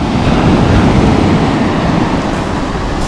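Sea waves surge and churn on the beach at Lazarevskoye near Sochi, a loud, continuous broadband roar with no break and no voices.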